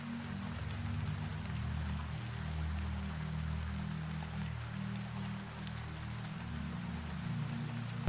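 Rain falling on greenhouse glass panes, a soft steady patter of drops over a low, layered background hum, with no voices.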